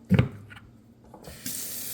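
Hot water runs from a tap into a sink, a steady hiss rising after a couple of brief handling knocks, heard alone.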